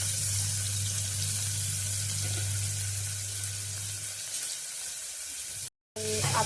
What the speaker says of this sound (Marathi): तेल गरम झाल्यानंतर आपण त्याच्यात कांदो घालून घेऊया.